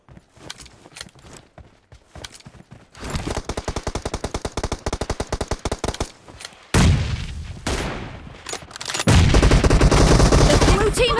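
Rifle fire in a shooter video game where an M24 sniper rifle is in use: a fast run of regular sharp shots, followed by two loud, heavy blasts that ring on, with light clicking and footstep-like taps earlier on.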